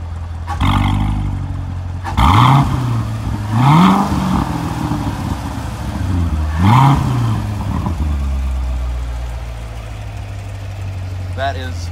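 A 2019 Corvette engine in sport mode idles with a deep burble, then revs up sharply three times in quick bursts before settling back to idle, loud and close, with brief talk at the start.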